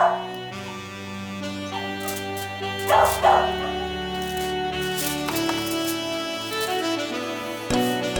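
A dog barks and yips repeatedly in a kitchen where oven-baked BBQ ribs and potato wedges are cooking, with sharp close barks and whimpers over a musical background throughout.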